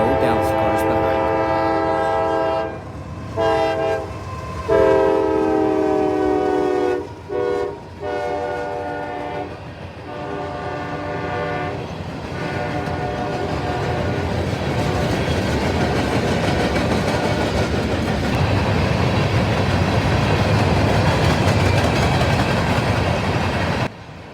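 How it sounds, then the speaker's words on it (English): CSX manifest freight M442 passes with General Electric CW44AC 427 leading and ES40DC 5278 trailing second; loud, close horn blasts sound early, then the rumble and clatter of the freight cars rolling by. "CSX Manifest M442 with General Electric CW44AC 427 leading and CSX ES40 DC 5278 trailing second"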